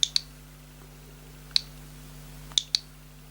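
Typing on the Nintendo Switch web browser's on-screen keyboard makes five sharp, quiet clicks in irregular pairs and singles, close and isolated against a faint steady hum.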